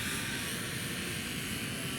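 A Syma X8W quadcopter drone flying in windy conditions gives a steady, loud whirring hum of its rotors without a break, blended with rushing wind noise.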